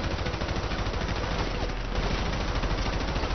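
Sniper rifle fire in a GTA Online solo deathmatch sounds as a dense, continuous spread of gunfire and game noise at steady loudness across the whole stretch, with no single shot standing clearly apart.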